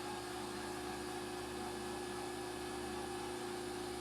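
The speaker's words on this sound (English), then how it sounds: "that's the 3-phase converter down there running" A Roto-Phase model M three-phase rotary converter runs in a workshop near a milling machine, giving a steady, continuous hum with a strong tonal drone and broadband whir, constant in level throughout with no talk.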